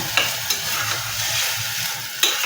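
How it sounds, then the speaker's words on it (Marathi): Soaked basmati rice is stirred and sautéed with tomato in a hot pan, producing a continuous close sizzle punctuated by a few sharp spoon taps against the pan. "भिजवून ठेवलेला हा बासमती तांदूळ घालून घ्यायचा आहे तो पण छान असा परतून घेऊया"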